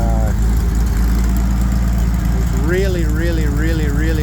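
A Bombardier engine idles with a steady low rumble throughout, and a wavering whine rises over it partway through.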